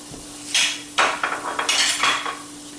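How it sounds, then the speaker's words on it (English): A utensil stirs flour into hot oil in a pot for chicken pot pie on a Green Egg grill, giving a quick run of scrapes and metallic clinks over a low steady hum. "you can hear it sizzle"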